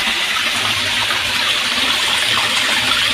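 Monsoon rainwater gushes in a loud, continuous rushing wash that holds steady throughout with no voices.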